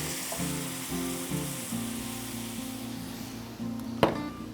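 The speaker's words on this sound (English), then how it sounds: "So I got these onions here. Gonna put beer on it." Onions sizzle loudly in a pan as beer is poured over them, a steady frying hiss with a sharp clatter near the end.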